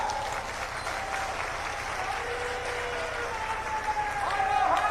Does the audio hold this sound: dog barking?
no